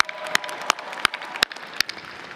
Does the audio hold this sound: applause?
yes